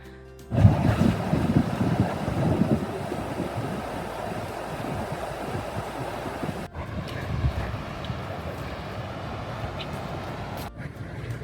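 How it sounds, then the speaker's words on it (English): The Kern River rushes steadily beside a trail near Kennedy Meadows, a continuous dense broadband roar with some wind buffeting, briefly dipping once before carrying on. "the Kern River is right beside us. I can hear it."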